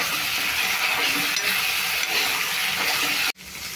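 Chopped tomatoes and potatoes fry in a pan in an Assamese village kitchen, giving a steady, loud, close sizzle that cuts off abruptly near the end and then resumes more quietly.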